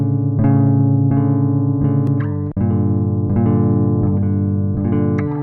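Dry, unprocessed guitar strings ring out in sustained chords with a muddy, bass-heavy tone, two long phrases separated by a quick break, with no talking.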